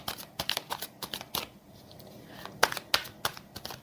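Tarot cards are shuffled close up, producing quick riffling flicks and crisp slaps in clustered bursts with a brief lull between them.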